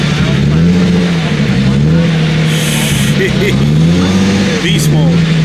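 A car pulls in at a Cars and Coffee meet with its engine intake roaring, a steady loud rumble that swells and throbs, while someone talks over it nearby.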